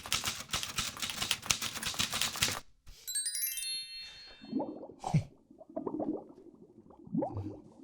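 A fast rattle of typewriter keys rapidly clacking, then a bright carriage-return bell ding with ringing tones, followed by a mechanical clunk and scattered softer clattering, close and clear with no talking.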